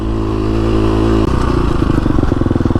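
A KTM 350 SX-F dirt bike converted for desert riding roars close and loud as it is ridden over dirt, its engine note shifting into a rapid, pulsing rasp partway through.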